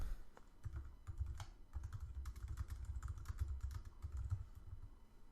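Typing on a computer keyboard while entering a line of debugging code, a rapid run of close, crisp key clicks with short pauses between bursts.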